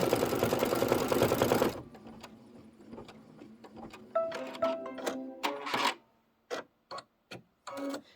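An embroidery machine stitches a chenille basting stitch on a Kimberbell Halloween pillow broom piece, a loud steady whirring run at first, then a quieter pause followed by short bursts of rapid mechanical ticking and stitching.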